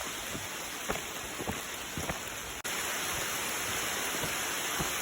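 Steady rain falling on a mountain trail in August, a dense continuous patter close around with scattered louder drops; the sound briefly cuts out midway, then resumes slightly louder.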